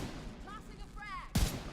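A frag grenade blast in a video game lands near the end as a sudden heavy boom, followed quickly by a second thump, after a stretch of quiet game sounds and faint voice-like tones.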